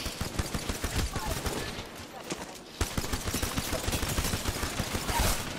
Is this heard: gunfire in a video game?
yes